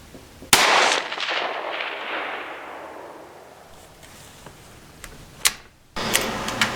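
A Savage Model 93 .17HMR rifle fires outdoors at long range: a single loud, sharp crack with a long echoing decay, followed by faint clicks and another abrupt noise near the end.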